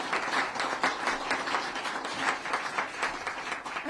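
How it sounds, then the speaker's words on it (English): A large crowd at a rural communities announcement event by the governor and lieutenant governor cheers and applauds steadily, dense sustained clapping and cheering throughout. "A huge cheer."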